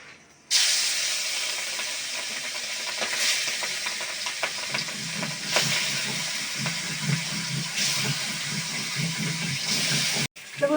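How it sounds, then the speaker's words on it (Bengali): Rohu fish fries in hot oil in a home kitchen, giving a steady, loud sizzling hiss with occasional crackles and stirring clatter that runs almost the whole time before a brief break at the end. "মাছটা এখন আমি ভাইজা নেবো"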